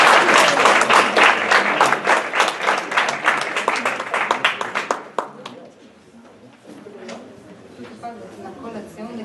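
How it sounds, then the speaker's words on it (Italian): A ceremony audience breaks into loud, sustained applause at a certificate presentation for Friulian language and culture course graduates; the clapping is dense at first, then thins and fades into quieter room murmur. "Un applauso."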